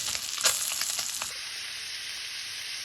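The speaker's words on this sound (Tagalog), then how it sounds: "Naggisa na ako ng bawang sibuyas at pati na rin itong pork. Prituhin po muna natin." Garlic, onion and pork sautéing in hot oil, a close steady sizzle with a few stirring scrapes early on before settling into an even hiss.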